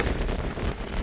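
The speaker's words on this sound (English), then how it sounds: "I can just about hold the phone due to the wind. It's that windy" Gale-force wind at Cape Point, South Africa, buffeting a handheld phone microphone, a loud continuous low rumble of gusting air with no talking.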